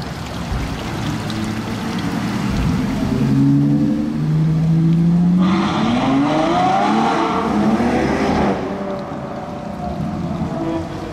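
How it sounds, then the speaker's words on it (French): A loud Ferrari FF engine rumbles and revs up, its exhaust note rising in pitch then fading, over steady traffic-like background noise in Monaco; no one speaks. "Il y a un bruit là. Ah, Ferrari FF."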